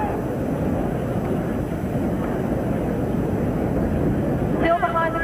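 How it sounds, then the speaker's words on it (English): Spectators at the 1984 US Open women's final between Navratilova and Evert roar and cheer in a steady, dense wash of crowd noise that fills the whole stretch, with a brief whistle-like swell near the end. "Crowd going nuts."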